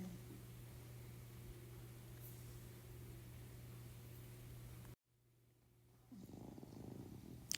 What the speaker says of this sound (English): so they're cute puppy snores